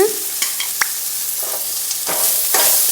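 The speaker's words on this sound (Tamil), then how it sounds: "நல்லா வணக்கங்க இந்த மாதிரி வணக்கியாச்சுங்க" Cumin stirred and sautéing in a pan while making baby corn butter gravy gives a soft sizzle with several spoon scrapes and clinks, close and fairly loud, growing louder near the end.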